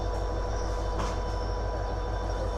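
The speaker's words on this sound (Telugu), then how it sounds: "మన ట్రైన్ అయితే మూవ్ అయిపోతుంది" A passenger train on the Rameswaram to Mandapam line, near the Pamban railway bridge, begins rolling with a steady, close rumble and broadband rail noise that holds evenly throughout, with no voices.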